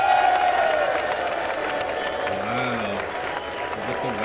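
Sustained applause fills a large chamber at a State of the Union address, a steady wash of many hands clapping throughout, with faint voices and cheering mixed in.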